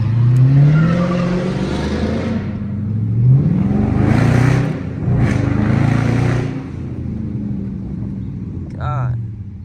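Dodge Charger RT engine accelerating hard through city streets beside a widebody Hellcat, a loud droning roar rising in pitch through gear changes, with people talking over it throughout.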